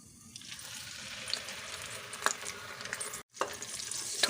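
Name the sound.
raw ground onion paste frying in hot oil with spices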